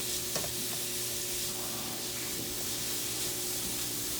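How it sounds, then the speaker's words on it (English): Zucchini noodles sauté in a pan with a constant close hiss and sizzle, a few light stirring clicks early on, and no speaking over it. "But I want to kind of saute up these Zoodles a little bit."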